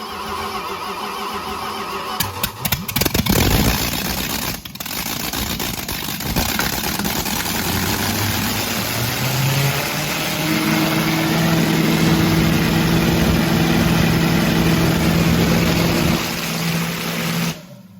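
A modified Mini Duster car engine with new heads and cam cranks and catches, then idles and revs with rising pitch, loud and close, flames from the exhaust, running steadily until cutting off at the end.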